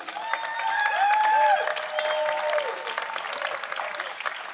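An audience applauds at a library commons ribbon-cutting celebration, dense clapping that swells and then tapers, with a few whistles or cheers rising over it and faint voices mixed in.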